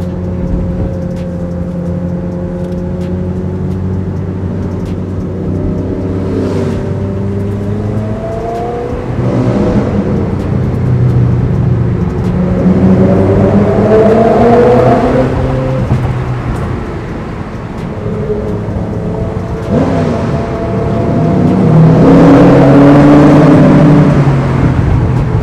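A Cobra sports car engine in a tunnel gives a loud, close, droning roar that swells several times as the revs and pitch climb, with no talking.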